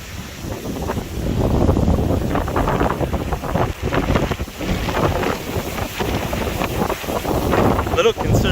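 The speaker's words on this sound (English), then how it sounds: "we are still getting good gusts here" Strong wind gusts from Hurricane Ian roar loudly and continuously, buffeting the microphone with broadband rushing noise that swells and dips throughout.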